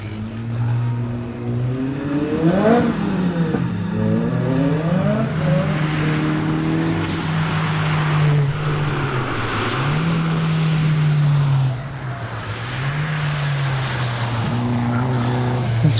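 A Datsun 1600 race car climbs a hillclimb course, its engine revving hard through repeated gear changes with rising and falling pitch, loud and close, while commentators talk over it.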